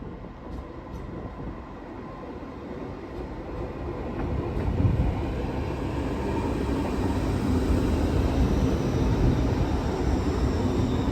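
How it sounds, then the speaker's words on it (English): An LNER Azuma train pulls into York station on the East Coast Main Line as an empty stock movement from Doncaster depot, a broad rumbling roar that swells after a few seconds and holds steady, with no talking. "we have a LNER Azuma arriving from Doncaster Depot with an empty stock movement"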